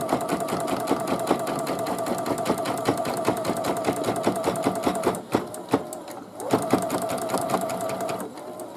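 A sewing machine stitches around the edges of fabric for a hooded towel, a close rapid mechanical chatter with steady rhythm, briefly pausing midway before resuming, with faint speech at moments.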